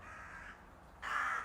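A crow caws in the distance near a park, two faint hoarse calls, the second one louder and longer, set against low steady background rumble.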